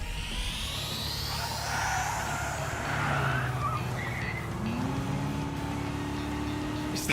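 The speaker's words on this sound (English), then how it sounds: "Is that a turbocharger?" A turbocharged vehicle engine roars steadily in Trails Through Daybreak, a continuous loud drone with rising whine and tire noise throughout, no voices.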